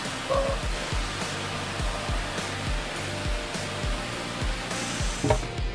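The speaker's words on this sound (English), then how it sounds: "we're going to use this huge machine to sand the final piece of plank" Large sanding machine working a plank of Iroko timber for a tabletop: a loud, continuous broadband whooshing roar with a regular pulsing rhythm throughout, close and steady, with no voices.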